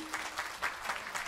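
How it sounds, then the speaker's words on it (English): A brief, light patter of audience applause at a Sunday satsang gathering of a Vedic school's annual youth camp, clapping fairly soft and steady without voices. "Let me hear the round of applause."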